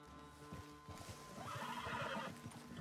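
A horse in Red Dead Redemption 2 neighs, then trots off with clip-clop hoofbeats that fade, during a wolf hunt in open scrubland. The sounds are fairly quiet and no one speaks.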